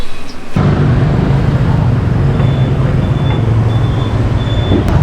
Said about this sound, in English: There's motorbikes everywhere, there's cars beeping